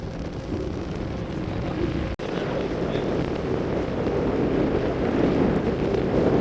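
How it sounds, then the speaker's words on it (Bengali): Wind blows across a river near Umananda island, buffeting the microphone in a steady low rush with one brief dropout. "আকাশ জুড়ে মেঘ পড়েছে খুব সুন্দর হাওয়া বইছে"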